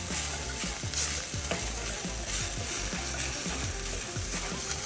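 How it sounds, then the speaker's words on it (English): Garlic, a single clove, sizzling and frying in a pan for salmon bites with steady crackle and frequent stirring scrapes and clinks throughout, close and fairly loud with no talking. "So now we're gonna add our garlic. This is 1 clove of garlic."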